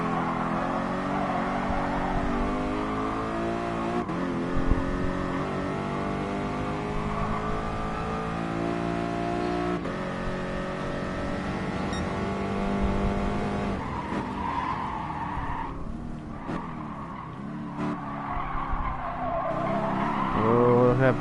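Racing car engines in Gran Turismo Sport rev and shift through gears over a long stretch, with tires squealing and skidding now and then, and a voice talking over the motor noise at times.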